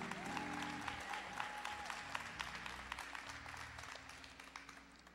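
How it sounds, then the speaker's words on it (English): An audience at a Saturday morning forum applauds a third-grade student, and the dense clapping starts strong and slowly thins and fades over a few seconds, with faint voices and a brief tone in the background. "Give Trayvon a round of applause"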